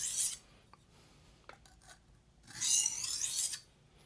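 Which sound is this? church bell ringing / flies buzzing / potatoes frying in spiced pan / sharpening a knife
sharpening a knife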